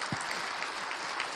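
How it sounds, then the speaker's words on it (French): A brief burst of audience clapping on a television broadcast, a dense, fairly quiet patter of hands with no voices over it. "On l'applaudit"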